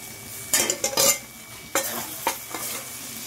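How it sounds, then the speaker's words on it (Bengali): Fried potatoes stirred into a masala in a pan for a raw banana kofta curry, a few brisk scraping strokes with sizzling between them, close and clear with no voices. "এবার আলুটা দিয়ে নাড়াচাড়া করছি"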